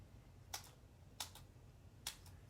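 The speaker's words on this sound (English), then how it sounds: "I'm going to take my scissors and trim off a little bit of these" Scissors snip through foam dimensional adhesive pads for card making, giving three crisp, separate cuts about a second apart, close and quiet against a faint room hum.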